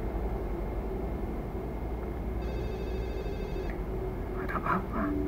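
A telephone rings in the horror video game Forbidden Siren 2, a short burst of electronic ringing over a constant low, droning ambience, followed by a brief faint clatter near the end.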